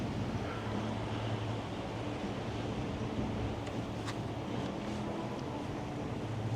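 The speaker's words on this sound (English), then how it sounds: "it is a pretty windy day" Wind gusts roar steadily across the microphone on a breezy day outdoors near condominiums and palm trees, a loud continuous rushing with a few faint clicks and no voices.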